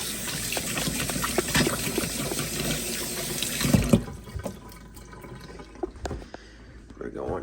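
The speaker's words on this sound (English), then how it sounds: "I'm going to wash my hands off here" A kitchen sink tap runs as hands are washed beneath it, a steady close splash and hiss that cuts off partway through, leaving faint drips and clatter; a voice talks over it.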